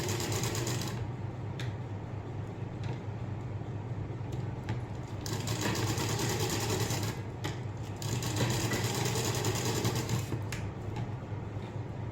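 A sewing machine stitches a blouse in a steady, continuous mechanical whir with rapid needle chatter, close and prominent throughout, with a few brief shifts in pace.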